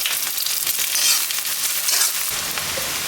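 Onions hit hot mustard oil in a wok and give off a loud, continuous close sizzle with bursts of crackling and no voices over it.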